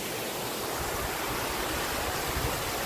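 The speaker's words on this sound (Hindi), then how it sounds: "ये वाटरफॉल आ रहा है पूरा वहाँ से" A waterfall in Eravikulam National Park, Munnar, roars as a steady, dense rush of falling water, loud and continuous with no voices over it.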